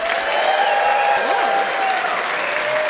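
A studio audience at a comedy debate show in Brandon applauds in a dense, sustained wash of clapping, loud and close, with faint cheers and whistles threaded through it.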